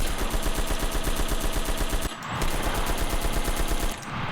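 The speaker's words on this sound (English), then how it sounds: "This is the officially best weapon sound in the game now." Rapid automatic gunfire from a weapon in the shooter game Enlisted, loud and close, fired in two long sustained bursts with a short break between them.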